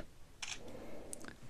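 OnePlus Nord CE 2 phone camera shutter firing as a photo is taken, a short double click burst followed by a second quieter click, close and crisp over a faint room hush.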